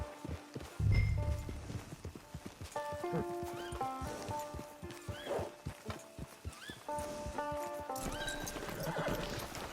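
Hooves clip-clop at a walking pace while a horse whinnies several times in Red Dead Redemption 2 Online, with game-style music tones layered over the steps.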